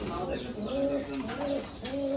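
A single pigeon coos indoors in an empty room, a few soft rising-and-falling throaty calls repeated close by at a gentle rhythm.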